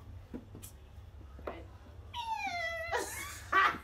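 A person imitates a cat with rising, warbling meow-like wails near the end, preceded by faint kitchen clatter and quiet background noise.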